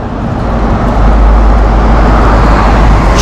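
Passing cars on a street in Lazarevskoye, Sochi, on a road toward the railway station, make a loud, close roar that swells as a vehicle goes by, a steady broadband rush with no voices.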